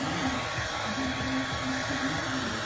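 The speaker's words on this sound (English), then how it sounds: "just melting the wax a little bit using the blow dryer on the high setting" Blow dryer on its high setting, melting wax for a homemade cereal candle, a steady loud motor whir and rushing air throughout, without talk.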